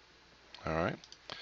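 A computer mouse gives a single crisp click with a couple of softer clicks after it, quiet and close in an otherwise still room.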